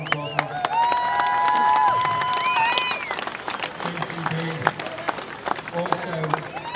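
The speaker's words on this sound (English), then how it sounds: "let's have a round of applause" Outdoor crowd at a farmers' protest in London applauds and cheers steadily for several seconds, with whistles, horns and scattered voices rising over the clapping before it thins out.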